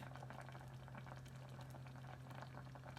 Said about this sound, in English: You can see it's bubbling.